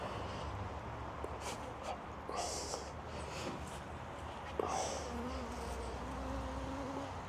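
Honeybees buzz around an open beehive during an inspection, a soft steady hum with a few louder passes of individual bees near the listener, faint and continuous, with light handling noises of the hive.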